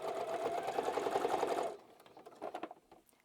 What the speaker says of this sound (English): So you're going to sew all the way around the sides and the bottom fully closed.